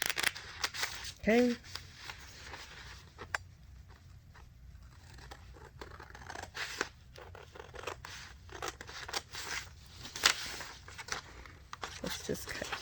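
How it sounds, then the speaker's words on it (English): Scissors snip through a paper handbag sewing pattern to cut out a tab piece, giving a few crisp close cuts amid paper rustling and handling, while someone speaks briefly now and then. "Let's just get this tab piece cut out really quickly."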